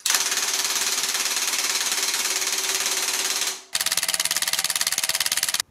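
A Ryobi One+ 18V cordless impact wrench with 400 Nm of torque hammers in a loud, rapid rattling burst, stops briefly, then fires again in a second sharp run.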